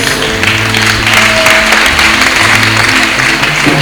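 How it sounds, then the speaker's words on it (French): Loud, even applause from a congregation at a night healing prayer service, a continuous wash of clapping with a low organ-like tone sustained underneath. "Je n'aime pas la façon que les gens applaudissent."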